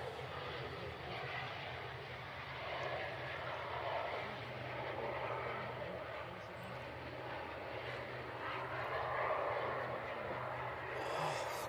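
An airliner taxis out at Manchester Airport, its engines giving a steady, moderately distant drone that swells and fades slightly over several seconds, with faint voices nearby.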